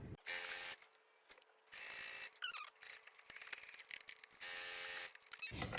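A sewing machine runs in several short bursts as it stitches across both ends of a fabric hair tools travel bag, each run a steady mechanical whir broken by brief pauses and small clicks, close and alone.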